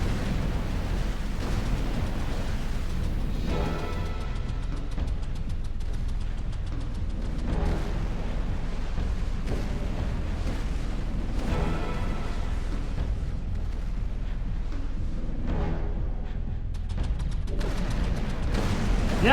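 Starburst Shockwave cannons firing in X3: Terran Conflict, a steady rumbling barrage of dense booms and rolling blasts that carries on without pause, loud and unbroken.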